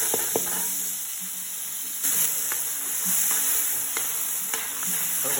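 Onion and tomato sautéing in a pan with a soft, steady sizzle and hiss, punctuated by occasional sharp clicks and scrapes of stirring, fairly quiet and close.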